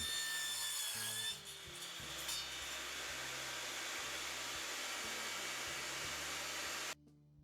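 A saw cuts through wooden 1x3 boards for easel legs, a steady close rasping drone that runs for about seven seconds with a brief dip early on, then stops abruptly.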